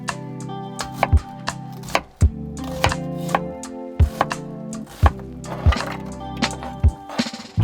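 A knife chopping food on a cutting board in a small mobile tiny home kitchen, crisp sharp strikes in irregular bursts, close and loud with brief pauses between runs of cuts.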